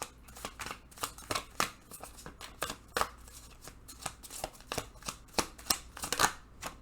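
Tarot cards being shuffled by hand, a close run of crisp riffling snaps and slaps in uneven bursts, fairly quiet and with no talking.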